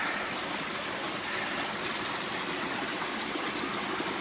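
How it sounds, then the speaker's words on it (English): Water streams and splashes down a slippery rock slab on a mountainside along the Appalachian Trail through the Carters, a steady, close, full rushing wash that runs unbroken throughout with no voices. "Slippery cliff or slab, and the water's falling right down it."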